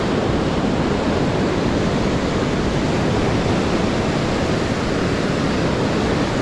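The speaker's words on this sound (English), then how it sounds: "the longer swell period allows the waves to wash up and wash back, and you get more time between the waves" Ocean surf washing up on a beach, a dense, steady roar of breaking water with no clear gaps between waves, loud and continuous with no voices.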